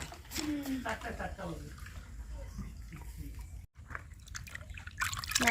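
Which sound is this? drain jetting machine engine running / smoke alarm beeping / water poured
water poured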